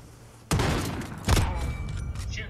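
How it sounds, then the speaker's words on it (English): Gunfire in a video game: two sharp, loud shots, each followed by a sustained noisy burst and rattle, with a ringing tone trailing toward the end. "Shooting bottles too"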